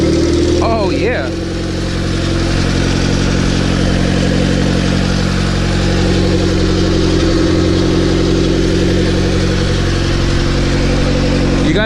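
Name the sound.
turbocharged Honda EG9 engine popping at idle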